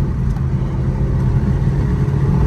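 A Maruti Suzuki Baleno car accelerating hard in second gear toward 90, its mid-pitched engine droning loud and steady from inside the cabin as revs climb, with no voices.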